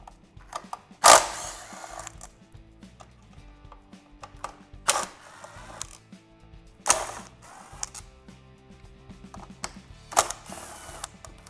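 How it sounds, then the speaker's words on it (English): A Torx T30 wrench works out the bolts of a front subframe mount on a Harley-Davidson motorcycle, giving sparse, close metallic clicks and clanks, a few sharp taps spaced over several seconds against quiet background. "we can remove this entire front subframe mount by removing these 4 bolts. There's 2 on either side using a Torx T30 wrench"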